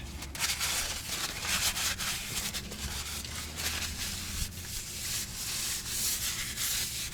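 Rag wiping oil and grime off the engine area of a Suzuki Jimny JA22W, a series of close, dry rubbing strokes in quick uneven bursts with no talking.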